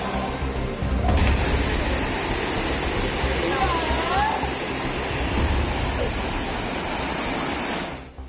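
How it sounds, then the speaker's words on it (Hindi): A heavy, constant roar of rushing water from Kempty Falls in flood after heavy rain, broadband and steady, close and loud throughout. "भारी बारिश के बाद कैंपटी फॉल कितना खतरनाक हो चुका है।"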